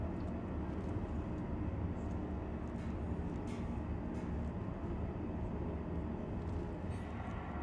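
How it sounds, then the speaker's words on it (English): A tram capsule arrives at a station in a sci-fi video game, a steady low rumbling rolling drone that holds constant throughout with no voices. "Capsule now approaching station."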